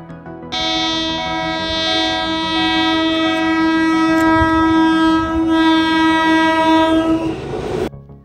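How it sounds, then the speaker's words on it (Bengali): A train running from Howrah to Azimganj passes a level crossing near Madhupur, sounding one long, loud, sustained horn blast of about seven seconds over rumbling wheels, close by and without speech. "এই ট্রেনটা হাওড়া থেকে আজিমগঞ্জ যাচ্ছে।"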